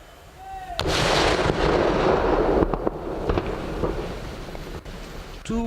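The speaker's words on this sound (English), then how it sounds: "Observe the impact of its explosion." A 2 kg vehicle-borne improvised explosive device recovered in Selangor detonates with a sudden loud blast, then a heavy roaring rumble that holds for several seconds with crackling debris before fading, with no talk over it.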